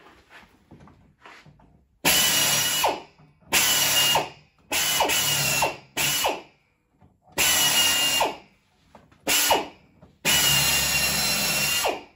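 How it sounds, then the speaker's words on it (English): A power drill runs in six loud bursts of a few seconds each, drilling metal on a quarter-scale plow, with short pauses between, its whine close and harsh as it bites through. "I gotta finish drilling this out here"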